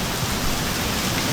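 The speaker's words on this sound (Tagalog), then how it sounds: "Wow, ulan." Steady rain falls across Bukit Batok Town Park, a dense, even hiss of drops hitting surfaces that fills the whole moment at a constant level, close and enveloping, with no voices over it.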